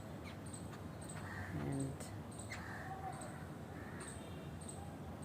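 Three small birds in Delhi chirp in short, sharp calls spaced a second or so apart, fairly close, over a quiet outdoor background with a brief low voice.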